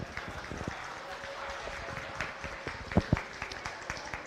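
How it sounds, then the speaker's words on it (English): Scattered audience clapping at a county beef show, fairly faint and sparse with a few sharper claps standing out, set in a roomy arena against a low murmur of background noise. "Let's give this young lady a nice round of applause."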